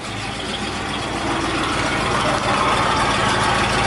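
A Chevrolet K10 pickup's big-block 396 engine idles loudly and steadily nearby, a deep rumble that swells slightly partway through.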